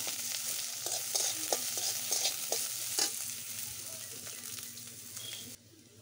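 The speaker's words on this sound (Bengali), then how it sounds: "পেঁয়াজ, আদা, রসুন এগুলো একটু ভেজে" Chopped onion, ginger and garlic fry steadily in a pan with an even crackling sizzle and a few stirring scrapes, close and fairly quiet, fading down at the end.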